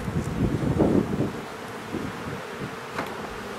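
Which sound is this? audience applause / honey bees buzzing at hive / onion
honey bees buzzing at hive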